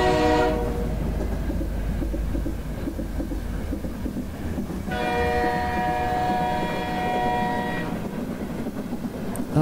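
A train rumbles steadily nearby, with a sustained multi-tone horn sounding midway for a few seconds over the rolling noise.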